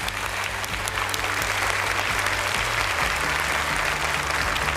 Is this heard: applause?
yes